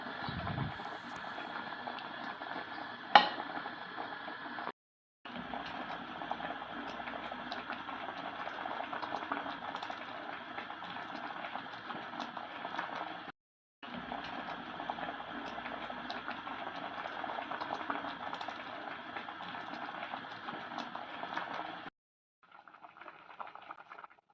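Mackerel fish curry simmering and thickening in a pot: a continuous close bubbling and hiss that cuts off briefly twice, then returns softer at the end.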